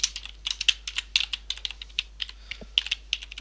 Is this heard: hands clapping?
no